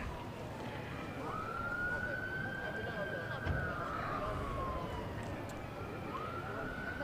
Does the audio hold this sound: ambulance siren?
yes